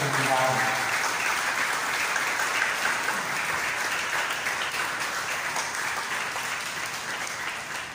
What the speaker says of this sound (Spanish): Vamos a dar un fuerte aplauso a estos niños y adolescentes que reciben a Jesús y la Iglesia